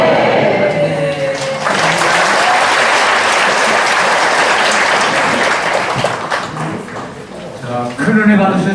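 An audience claps for a guest lecturer at a church Bible seminar, loud sustained applause filling the room with a voice faintly speaking near the end.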